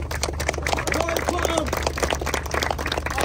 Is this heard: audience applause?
yes